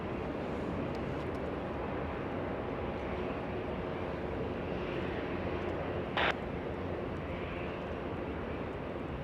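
Airliner arriving at Los Angeles International Airport, a steady, continuous engine roar holding at one level throughout, with a brief sharp click near the end.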